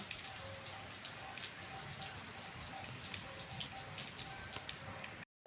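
Rain falls steadily and softly in a dense, even patter with scattered louder drops, continuous and fairly faint, ending abruptly.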